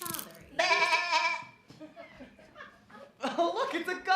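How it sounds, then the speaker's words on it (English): A performer's voice bleats like a goat in a stage musical, two drawn-out wavering cries with a short gap between them, loud and close, followed by laughter. "Oh, look, it's a goat!"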